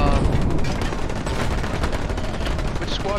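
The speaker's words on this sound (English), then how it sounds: "Got gunfire at 301, 302, but it's down the hill." Gunfire in the World War II shooter Hell Let Loose, a dense continuous crackle of rifle and machine-gun shots, fairly distant and muffled, running steadily throughout.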